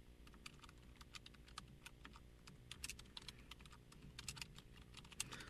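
Rapid typing on a computer keyboard, a dense run of sharp clicks and key taps in an uneven rhythm, close and fairly quiet, with no voices.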